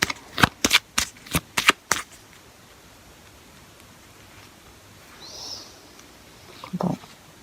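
Tarot cards being shuffled during a reading: a quick burst of about seven crisp riffling snaps in the first two seconds, then quiet room tone with a soft rustle and a short low thump near the end.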